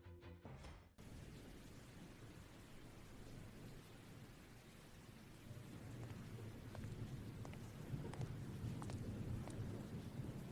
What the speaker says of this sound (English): There's high winds and rain, and a visible fog layer.